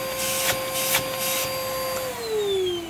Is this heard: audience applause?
no